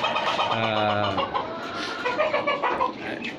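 A broody hen set for hatching clucks and croons repeatedly nearby, a drawn-out call followed by softer, uneven clucks against a noisy background on a caged desi chicken farm in Bangladesh.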